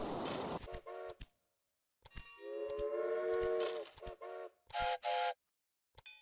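A video-game locomotive whistle in Railway Empire sounds in several short, clean tonal blasts and one longer sustained toot, with brief clanks between them.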